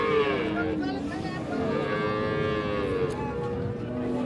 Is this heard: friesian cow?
yes